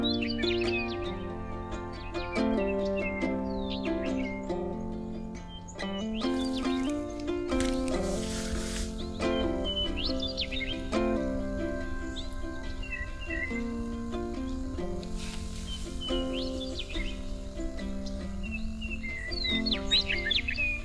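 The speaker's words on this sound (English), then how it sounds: "listen to the western meadowlark calls I was able to capture" Western meadowlarks call and sing in fall, with bright, repeated whistled phrases and chirps. A stereo recording made outdoors in Utah, the calls moderately near over a steady low background hum.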